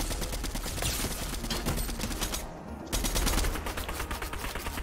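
Dense, continuous rapid gunfire from a video game, loud and close, running almost without pause with one brief gap, and no talking over it.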